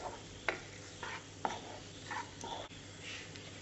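Chopped onion cubes are stirred in a pan for a restaurant-style chilli porotta, with soft scraping strokes and a couple of sharp clicks of the utensil against the pan. The sounds come quietly and close, over a faint low hum.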